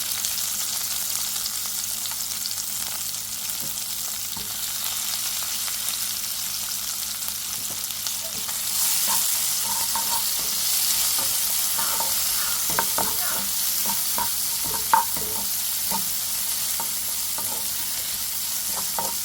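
Ginger, green chilies, garlic and onion sauté in oil in a pan over low heat for a coconut milk prawn dish: a quiet hiss that grows brighter partway through, punctuated by scattered stirring clicks and taps.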